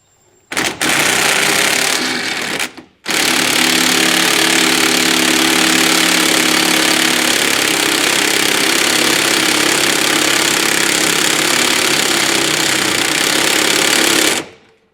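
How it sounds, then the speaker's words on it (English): Impact wrench tightening an equalizer bolt on a tandem-axle trailer: a loud, rapid hammering burst that stops briefly, then a long continuous rattling drive close by. "I'm using an impact here and it's drawing that in"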